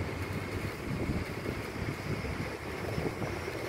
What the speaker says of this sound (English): We got the dang wind blowing everywhere.